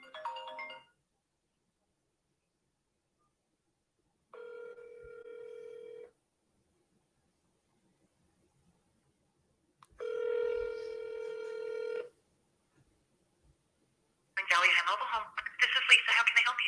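Ringback tone of an outgoing call to a business cell phone: two steady rings about two seconds each, with quiet gaps between, followed by a voice answering.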